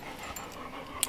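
A dog pants rapidly and steadily up close outdoors, a quick breathy rhythm at moderate volume with a brief sharp sound at the end.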